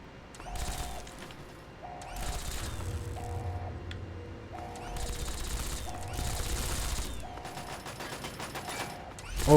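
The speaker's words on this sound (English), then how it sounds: "Oh, you found the Gatling laser." Gatling laser firing in a Fallout-style video game, repeated sustained bursts of rapid buzzing fire separated by short pauses, each burst preceded by a short whirring spin-up tone, loud and close.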